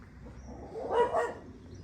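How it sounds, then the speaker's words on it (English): A neighbouring dog lets out one short, muffled bark from a distance next door, a single brief woof rising from a quiet outdoor hush. "There's next door's dog."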